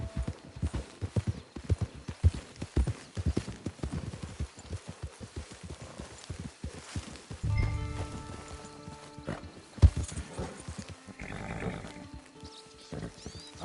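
Rhythmic hoof clip-clops of a horse walking in a PS4 video game, fairly close, with a brief whinny partway through over faint background music.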